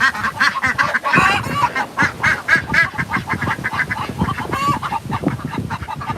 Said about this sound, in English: The chickens are going nuts.